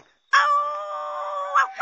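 A person mimics a rooster's crow in one long, strained call of about a second and a half, loud and close, with a short rise again at the end.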